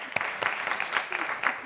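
A television studio audience applauds in a short burst, with a few sharp louder claps standing out and some voices mixed in.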